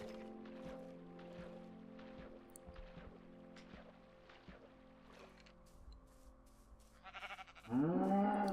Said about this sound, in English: Wait, is that a black sheep?